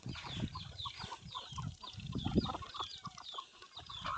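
Chickens cluck in repeated short bursts, close and fairly distinct, with brief pauses between calls and no voices.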